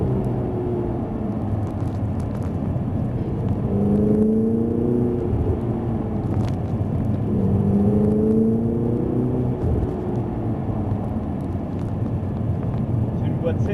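Ferrari 488 with seven-speed gearbox accelerating in fourth gear on a circuit, a continuous loud whirring engine note rising in pitch twice within the cabin, with people talking over it.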